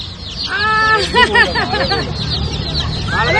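A young chicken chick makes bright, rising peeps and quick chattering calls close up, loud over a soft background hum, with a last chirp near the end.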